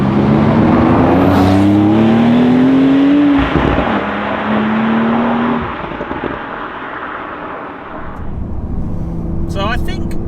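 A Porsche 911 Carrera GTS with a naturally aspirated flat-six engine accelerates hard, its engine note climbing through gears with a brief dip between, loud inside the cabin, then easing off while a person talks.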